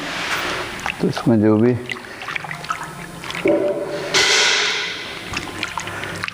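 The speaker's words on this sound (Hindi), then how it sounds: "थोड़ा सा इसको ठंडे पानी से धो लेते हैं" Khoya is rinsed with cold water at a dairy plant, with splashing and pouring bursts between a man's speech, over steady machinery background noise.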